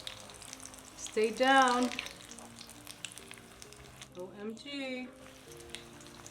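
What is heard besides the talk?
gojiya (spiced coconut dough) frying in oil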